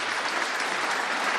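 Applause from a snooker crowd at the 2023 UK Championship quarter-final, a steady, dense patter of clapping sustained throughout without any break.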